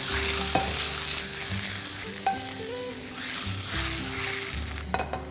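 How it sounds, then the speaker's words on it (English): Zucchini sizzling steadily in an oil-filled pan, with repeated scrapes and clinks of a utensil stirring the slices, close and fairly quiet with no talk. "We have to cook the zucchini till it's half done."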